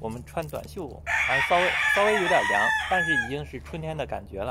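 A rooster crows once in a long, loud call from a backyard in a warm spring morning in Phoenix, heard clearly beneath someone speaking close to the microphone.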